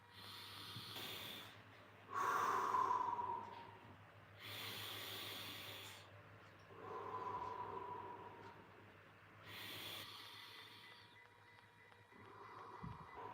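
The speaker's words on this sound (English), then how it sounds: "exhaling out, and then repeat and rinse." Slow deep breaths drawn in through the nose and let out, in four or five long waves spaced a few seconds apart, close and fairly soft over a low steady hum.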